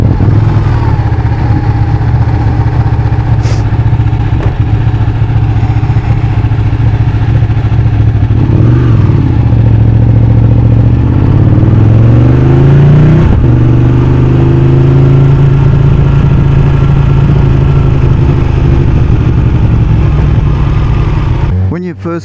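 A touring motorcycle being ridden, heard as a loud, constant engine drone mixed with wind rush; the engine note dips and then climbs steadily partway through as the bike accelerates, with no pauses.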